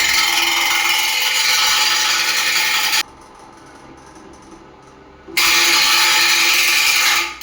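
An old all-metal Crompton table fan, about 25 years old, with a small broken part runs with a loud, steady rattling whir. The noise drops much quieter for a couple of seconds midway, then returns at full strength.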